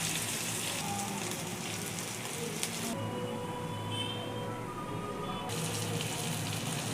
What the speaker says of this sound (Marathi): आता सगळे पीसेस मी असेच फ्राय करून घेणार आहे.